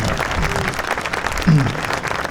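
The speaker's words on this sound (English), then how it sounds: "Let's give all of our 3 of our essay winners a great big round of applause one more time." Crowd applause at a Veterans Day ceremony in Belleville, Illinois, honouring essay winners; a steady, dense wash of clapping fills the hall from start to finish, with a brief voice or tone rising over it near the middle.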